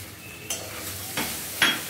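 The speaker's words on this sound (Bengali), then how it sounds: "এবার ভালোভাবে মশলার সঙ্গে চালটা মিশিয়ে নেবে।" Rice stirred into spice paste frying in oil in a pan, with a few distinct scraping clinks of the spoon against the metal over a faint steady sizzle.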